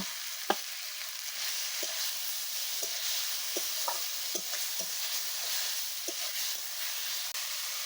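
Ginger and garlic paste fries in a pan with a constant crackling sizzle and occasional soft spoon knocks, close and alone without speech.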